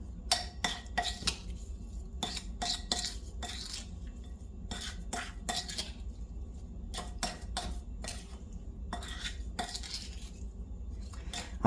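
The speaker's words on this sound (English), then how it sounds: "Give it a good stir." A utensil stirs seasoned shrimp in a bowl, producing quiet, irregular clinks and taps against the bowl's side in quick clusters with short pauses between them.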